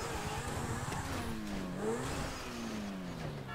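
Car engine in GTA V Online revving up and down, with pitch rising and falling in sweeping arcs over several seconds at moderate loudness, no talking.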